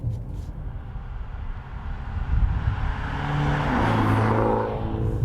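A small-displacement BMW SUV runs in sports mode on an unlimited stretch of German Autobahn, its engine and road roar building steadily to a rising whine as it gains speed.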